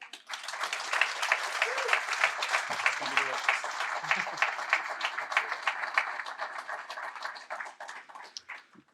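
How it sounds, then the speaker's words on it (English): A crowd applauds Mike at a county economic development annual meeting, steady moderate clapping from many hands that carries through nearly the whole stretch before thinning out at the end, with a few brief voices underneath. "we'd like to give the crowd an opportunity to give you a round of applause"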